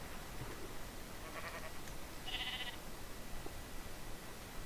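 Sheep in Minecraft give a couple of short bleats, faint and brief, over a steady background hiss.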